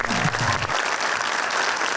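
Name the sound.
studio audience applause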